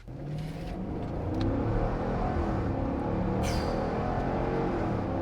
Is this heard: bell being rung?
no